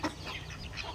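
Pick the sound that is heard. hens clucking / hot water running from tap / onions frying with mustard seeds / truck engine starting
hens clucking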